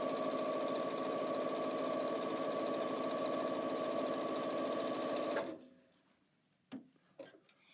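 A sewing machine chain-pieces quilt pieces, running fast and steady up close for about five seconds before stopping, followed by a few light clicks and handling knocks.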